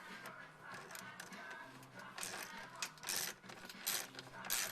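Ratchet wrench tightening the oil drain plug on a 2014 Ford Mustang GT with a Coyote V8: rapid, faint metallic clicking that grows busier and slightly louder toward the end, with no talk over it.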